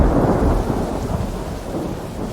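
Loud, continuous storm noise: deep rolling thunder over steady heavy rain, filling the whole stretch with a broad rumble and dense hiss, no voices present.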